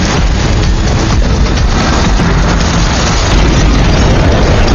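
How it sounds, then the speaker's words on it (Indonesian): A loud, sustained roaring blast with crackling bursts as a bus explodes in an Indian action film after fire bombs, continuing heavily for several seconds without voices. "Melihat busnya telah meledak"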